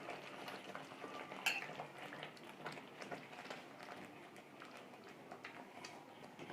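Cucumber halwa mixture being stirred in a pan gives a steady, soft scraping and sizzling texture with light metallic ticks of a spoon, continuous and fairly faint, with no talking.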